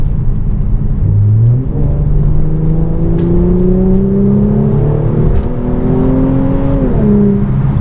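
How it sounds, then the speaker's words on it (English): A 2016 Mercedes-Benz C450 AMG climbs a hill in fourth gear, its engine rising from a low rumble into a strong, steady pull with a brief lift near the end, loud and close with no voices. "That's going up a hill in 4th gear."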